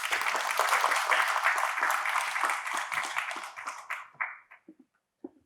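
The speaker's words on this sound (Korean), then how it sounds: "따뜻한 박수로 맞이하여 주시기 바랍니다." Applause at a National Assembly symposium in Korea greets the incoming moderator, a dense wash of clapping for about four seconds that thins into a few scattered final claps.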